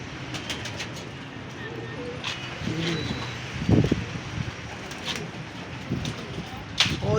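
Many pigeons kept as pets, including young birds, coo in low, repeated phrases from close by in a dim loft, while someone talks over them and faint rustling and a distant rumble sit underneath.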